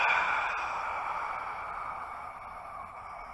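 A long, steady breath out during a hip flexor strengthening exercise, airy and close, slowly fading over a few seconds with no talking.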